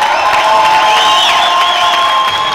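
A crowd at a strike rally cheers and applauds in a loud, continuous wash of clapping with high shouts and whistles riding over it, filling the whole moment without any speech.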